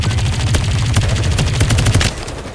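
Rapid gunfire in the Farlight 84 battle royale video game, loud automatic bursts of close shots firing in quick succession over a low, rumbling game backdrop.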